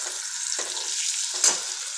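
Stuffed chillies frying in hot oil, a steady crackling sizzle with two sharper bursts of spattering, close and alone without talk.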